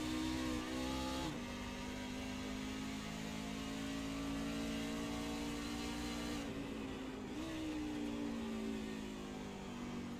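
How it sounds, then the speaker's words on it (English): Race car engines in a racing video game, downshifting in the turns: a loud, continuous engine drone that drops in pitch at shifts, close and sustained throughout without speech. "they are downshifting in the turns here"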